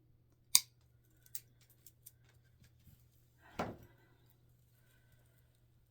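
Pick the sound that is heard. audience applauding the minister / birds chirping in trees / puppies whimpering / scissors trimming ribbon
scissors trimming ribbon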